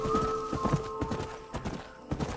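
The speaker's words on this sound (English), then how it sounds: "The horse is stalking me." Horse hooves clip-clopping in the Red Dead Redemption video game, a brisk irregular run of close hoof strikes with a faint tonal game sound underneath and no speech.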